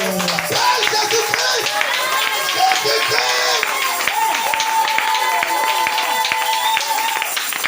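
Church congregation at a French-language service clapping in rhythm and acclaiming with cheers, loud and close, with singing and raised voices over the sustained applause throughout.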